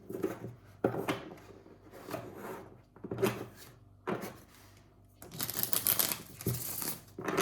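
Tarot cards are shuffled by hand in a quiet room, a series of soft riffling and rubbing bursts that grow into a denser, louder shuffle near the end, with no talking.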